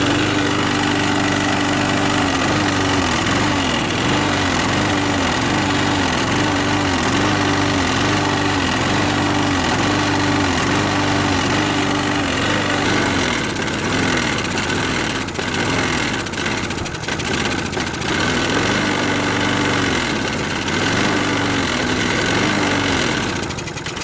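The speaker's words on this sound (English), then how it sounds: "So this is take 2 of starting the mower." A lawn mower engine primed with spray lubricant runs loud and steady with a rhythmic, slightly uneven throb, its tone shifting and surging about halfway through as it keeps running. No one speaks.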